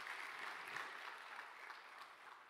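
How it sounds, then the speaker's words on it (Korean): Congregation applause during a Sunday worship service at a church, a steady, diffuse wash of many hands clapping, heard faintly from a distance. "하나님께 영광의 박수 올려드리겠습니다."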